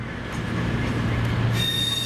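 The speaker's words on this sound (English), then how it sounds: "Super Voyager going to Glasgow Central." A Cross Country Super Voyager train rolls into a station with a steady low rumble and rail noise, ending in a faint high squeal of brakes or wheels.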